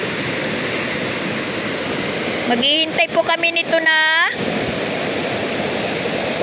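A stream swollen by rain runs off the fields in a loud, constant rushing roar, with a person talking briefly over it partway through.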